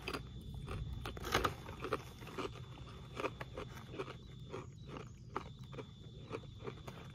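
Takis Kettlez Habanero Fury kettle-style potato chips are crunched and chewed up close, with a steady run of crisp bites and crackles and no talking.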